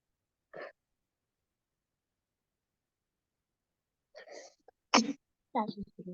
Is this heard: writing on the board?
no